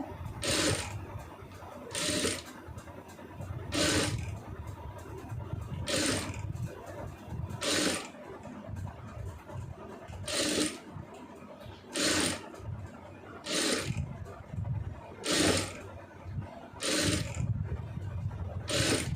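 Sewing machine stitching a blouse sleeve in short, regular bursts of rapid clatter, about every one to two seconds, with quiet gaps of handling between them; fairly faint and close.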